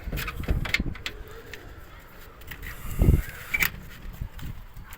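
Pigeons in a coop give low, soft coos among scattered flutters and knocks, with someone talking quietly nearby.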